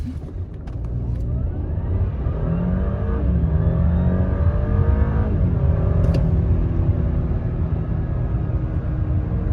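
A 2022 Audi A6 S-Line launches hard from inside the cabin, its engine rising in a loud, sustained drone through upshifts, with a steady whir and road roar and no talking.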